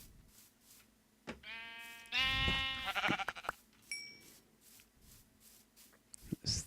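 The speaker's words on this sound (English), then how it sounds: "It's 3 sheep almost." Sheep bleating in the Minecraft video game: a couple of short, close, nasal bleats in quick succession over quiet background, with scattered small clicks before and after.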